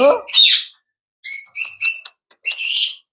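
A talking pet parakeet gives a series of loud, close, shrill squawks and whistling calls in short bursts separated by brief pauses.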